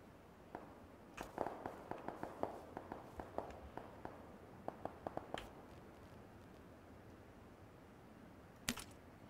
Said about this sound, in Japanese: 今、丘の上の方から銃声したよな。